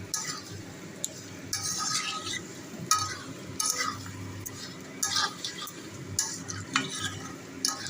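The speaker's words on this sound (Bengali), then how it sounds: "পেঁপে, আলু, সয়াবিনের সাথে ভালো করে মিক্স করে নেব।" Spices being stirred into papaya, potato and soybean in a pan, with a low sizzle under frequent clinking, scraping strokes of a spoon against metal at an irregular pace.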